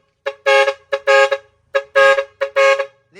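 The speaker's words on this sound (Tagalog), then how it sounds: "all goods na air horn project na nilagyan natin ng horn module" A loud dual-trumpet air horn driven by a horn module blasts four times in a repeating two-tone pattern, each honk short and brassy with brief gaps between.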